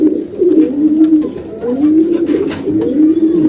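Close, loud pigeon cooing from a weak, mosquito-bitten bird kept with chicks in a backyard coop, repeated rolling coos in a steady rhythm with faint clicks between.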